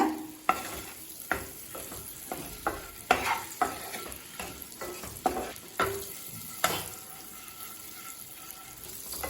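Eggs fry slowly with masala in a pan, giving a steady close sizzle under repeated scraping strokes of a stirring utensil, with no voices.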